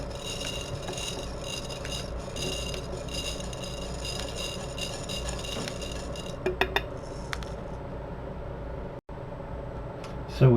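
Small chunks of plastic sprue poured into a glass spaghetti jar: a continuous rattling, scraping pour of many small pieces, close and fairly loud, then a few sharper clinks, a brief stop and a final knock.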